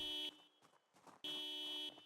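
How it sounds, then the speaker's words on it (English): In a zombie survival video game, a car alarm blares in harsh, buzzing electronic bursts: one long blast, short intermittent pulses, then another long sustained blast, loud and with no talking. "And then I messed with the car and it had an alarm."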